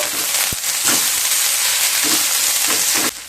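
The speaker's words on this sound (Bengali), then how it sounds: "পেঁয়াজটা হালকা ভেজে নেব" Chopped onions fry gently in hot oil for dal bhuna, a steady close sizzling hiss broken by a few soft stirring scrapes.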